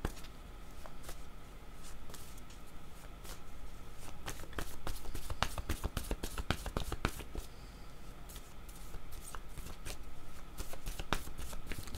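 A deck of tarot cards shuffled during a card reading, with a continuous papery rustle and a dense burst of rapid riffling clicks in the middle, close and even in level, no voice over it.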